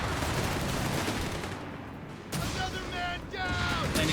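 Rangers fire Thompsons and BARs in a Company of Heroes 3 battle, a dense crackle of gunfire and booms under continuous excited commentary.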